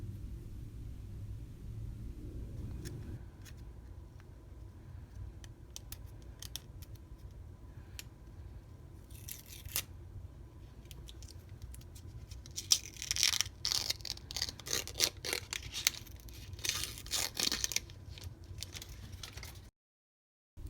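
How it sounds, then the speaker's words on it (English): Plastic film is peeled off a new 2020 MacBook Air in quiet, close, crinkly rustles and crackles, sparse at first and then denser bursts before stopping. "There will be ASMR of me peeling off the plastic soon"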